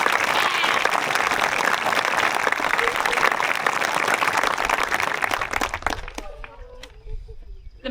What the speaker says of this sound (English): Please join me in applauding the graduating class of 2026.